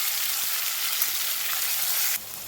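Panch phoron spices sizzling in hot oil for a village-style pumpkin greens and poppy seed dish, giving a dense, bright crackle that stays loud and steady, then drops sharply just before the end.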